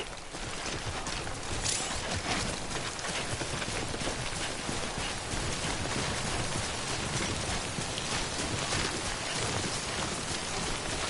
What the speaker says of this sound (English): Don't stay out in the rain any longer than you have